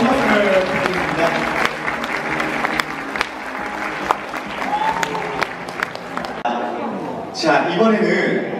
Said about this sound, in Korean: 다시 한 번 더 큰 박수를 부탁드립니다.